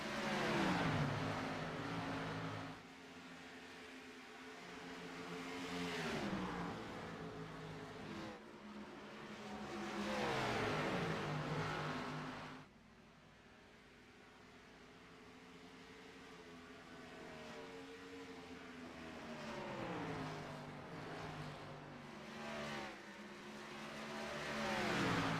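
Several race cars roar past at Dover International Speedway in an Xfinity Series race, likely a sim racing league, engines loud and sweeping up and down in pitch as they pass, blending into a continuous near-to-mid-distance drone.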